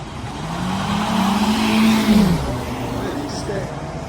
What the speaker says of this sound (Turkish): sakin gibi görünen bir yarış kalkış yaptılar ama otomatik şanzıman araçları oldukları için doğrudan hızlanıyorlar.